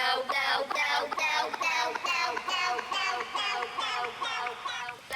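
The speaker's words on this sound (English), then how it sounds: "I already used the sound shifter by waves to pitch it up" Break beat pitched up with the Waves Sound Shifter plugin for a jersey club and trap track, now processed: a dense, bright, continuous loop of rapid chopped hits, loud and full, with no one talking.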